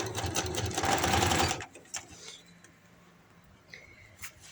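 A sewing machine stitching fabric for umbrella palazzo pants runs in a fast, close whirring burst for about a second and a half, then stops, leaving quiet room sound with a few faint clicks.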